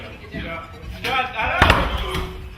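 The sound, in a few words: person ramming a door with their head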